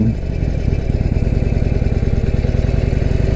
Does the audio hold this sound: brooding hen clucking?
no